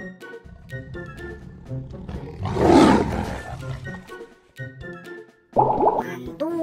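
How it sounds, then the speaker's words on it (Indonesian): A tiger roars in a short loud burst partway through, set among animated cartoon voices and music, with talk before and after. "Ini adalah harimau."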